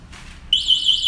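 Anti-theft alarm on an E10 folding e-scooter switching on: a sudden loud, steady high electronic tone that kicks in partway through and keeps sounding without a break, close to the microphone.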